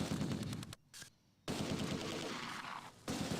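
Bursts of gunfire from an enemy sniper in the World War II strategy game Close Combat 2, loud rapid cracks in two clusters split by a short quiet gap, with no talking.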